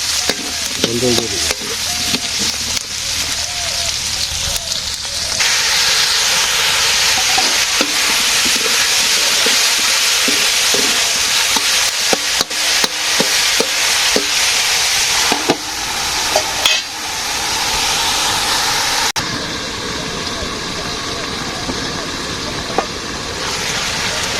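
Potatoes frying in a pan in a Bangladeshi village kitchen, a loud continuous sizzle with scraping stirs throughout, close and steady.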